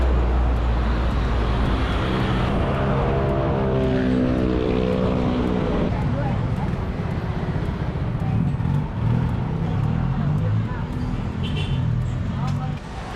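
Dense Bangkok street traffic rumbles without a break, with the steady drone of engines passing close by and a busy urban background.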